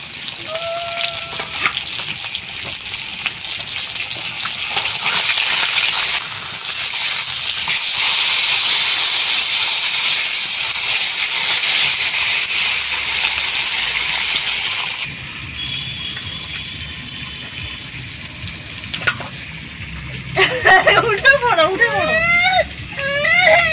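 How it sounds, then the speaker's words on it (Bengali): Fish boils in a covered pot with a steady hiss of steam that runs loud for about fifteen seconds before easing, and voices and a child's whimpering come in toward the end. "ঢাকা দিয়ে দিলাম, খুব ভালোভাবে মাছটা সেদ্ধ হয়ে যাবে।"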